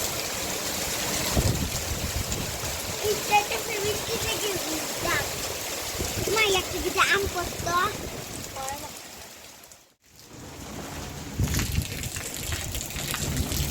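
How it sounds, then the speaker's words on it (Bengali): Heavy rain pours onto a balcony and splashes in a steady, close wash of water noise, while people talk over it intermittently and the sound briefly drops out near the end. "প্রচুর পরিমাণে বৃষ্টি শুরু হয়েছে"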